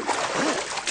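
Water splashes loudly at night as a vehicle drives through it, a short broad burst that stays steady across the whole second with a voice faintly mixed in.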